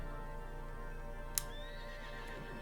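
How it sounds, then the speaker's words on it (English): A horse neighs in the video game Everything, a faint whinny set against a steady, droning game backdrop, with one sharp click partway through. "I can make horse noises."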